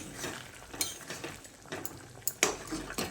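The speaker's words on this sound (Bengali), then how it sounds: "তারপর আবারও একবার ভালো করে নেড়ে চেড়ে মিশিয়ে নিচ্ছি।" A spoon scrapes and clinks in a pan while stirring a potato and pumpkin curry, with soft irregular knocks and a faint bubbling background, quiet and close.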